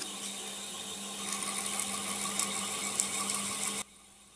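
Sanding a small wooden turned ornament spinning on a lathe, a steady continuous whirring hum with a faint scratchy hiss, close and even throughout, cutting off abruptly near the end as the machine stops.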